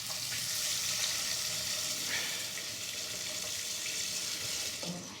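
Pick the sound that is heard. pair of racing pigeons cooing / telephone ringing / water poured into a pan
water poured into a pan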